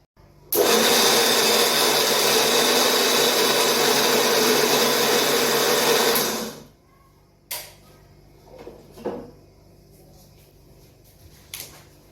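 A kitchen mixer grinder blending coconut chutney after water has been added, one loud continuous whirring roar for about six seconds that cuts off, then faint clinks and knocks.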